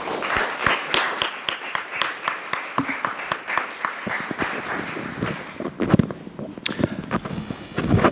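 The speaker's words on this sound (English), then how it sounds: "Let's give our presenters a nice round of applause." Audience applause for presenters at a talk on media use in Vietnam, a room of people clapping with distinct, uneven claps, moderately loud, tapering slightly and then picking up again toward the end.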